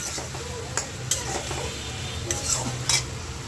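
Cauliflower and potato are sautéed in a pan, with a soft continuous sizzle under repeated scraping and clinking of a stirring utensil against the pan.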